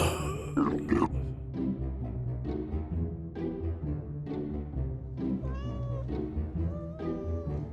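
A cat meows and grunts inside a house, several short cries spaced through the scene under soft background music, with a brief scuffle near the start and a person imitating the meows.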